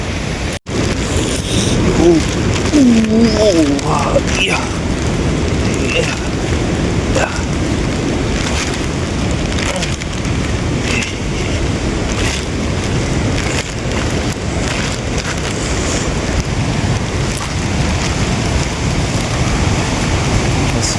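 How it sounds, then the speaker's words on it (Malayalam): A waterfall at Chooralmala in Wayanad roars in a constant, loud, broadband rush through the whole stretch, with a brief voice near the start. "വെള്ളച്ചാട്ടം എത്തി"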